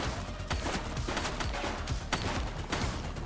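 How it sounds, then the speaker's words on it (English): Rapid bursts of gunfire ring out in the police video game The Precinct, loud and close, with repeated cracking shots in quick clusters and no talk over them. "shooting!"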